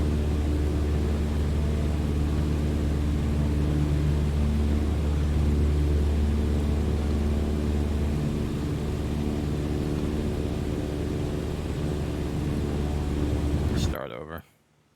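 Airplane engine at full throttle in the video game Microsoft Flight Simulator 2020, a loud, steady droning roar with a low hum that continues unbroken before cutting off abruptly near the end.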